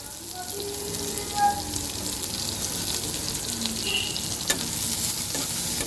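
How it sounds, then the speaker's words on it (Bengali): Onions frying in a pan with green chillies after a nigella seed tempering, a steady soft sizzle with occasional stirring scrapes, close and continuous, with no talk. "পেঁয়াজটাকে একটু ভেজে নেব"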